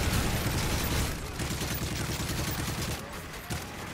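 Dense, continuous gunfire fills a round of MW3 Survival on the Bakaara map, with rapid overlapping shots loud and close throughout, and players talking over it.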